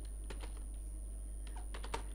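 Fingers typing PHP code on a computer keyboard, a few quick close keystrokes in two short clusters over a steady electrical hum.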